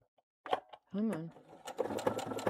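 A sewing machine runs in a few short stitching bursts, close and fairly quiet, stopping and starting, while a person talks briefly over it.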